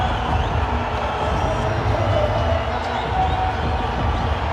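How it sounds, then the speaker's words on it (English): Home supporters roar in a loud, continuous, dense wave throughout a franchise field hockey league match in Ranchi, India, the stadium crowd cheering as the Ranchi Rhinos win a penalty corner against the Delhi Waveriders. "The crowd going wild here in Ranchi"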